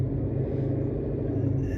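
A Whipple supercharged S550 Mustang engine drones at a steady low rumble in third gear, close and constant through a short stretch, without any rise in pitch.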